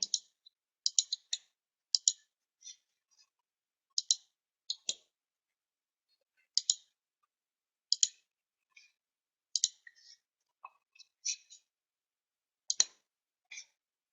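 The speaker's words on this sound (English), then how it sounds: "I'm just typing the data." Keys on a computer keyboard click in short, irregular bursts as data is typed into a table, the taps faint and close with quiet pauses between them.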